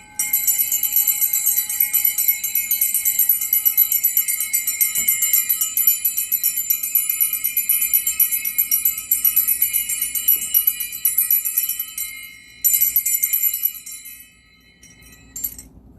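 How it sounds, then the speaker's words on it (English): Bell-like metallic ringing, steady and sustained, with bright high tones holding for about twelve seconds, a brief renewed strike near the end, then fading away; no talking. "Let's ring more bells."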